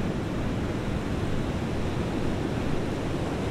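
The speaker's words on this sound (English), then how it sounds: "put your attention on my words and also on the sound of the waves" Ocean waves wash onto the shore in a steady, enveloping roar of surf with no distinct individual breaks and no voices.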